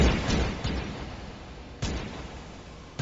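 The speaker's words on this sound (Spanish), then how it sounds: "Al interior de la casa se escucharon disparos." Several heavy gunshots boom one after another, each followed by a long echoing decay, loud and reverberant.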